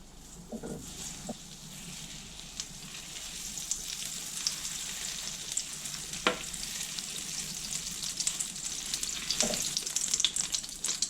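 Steady sizzling and crackling of butter in a hot frying pan, with a few soft clinks and knocks now and then, no voices.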